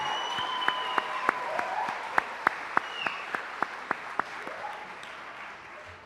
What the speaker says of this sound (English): Let's give a final round of applause to all our Service Award honorees